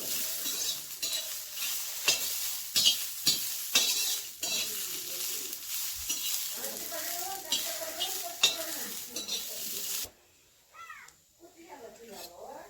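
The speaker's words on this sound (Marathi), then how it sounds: "आणि शेंगदाणे टाकायचे। व्यवस्थित भाजून घ्यायचं" Peanuts roasting in a pan over a wood-fired stove for Kolhapuri-style chili thecha, loud sizzling with scraping stirs and clinks, a voice talking over it before the sizzle cuts out near the end.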